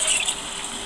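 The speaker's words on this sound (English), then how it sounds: "hot water coming through" Hot water gushes steadily into a brewing vessel while a New England IPA is being brewed, a continuous close hiss and rush with no talk.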